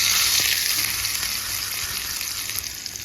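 Hot cumin tadka hits a bowl of bottle gourd batter, setting off a close, continuous frying sizzle that fades slightly as it settles, with faint crackles scattered through it.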